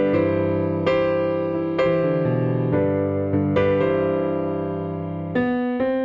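Solo piano plays the third interlude of a song, with chords struck about every second or two and left to ring and fade, close and steady, with no voice.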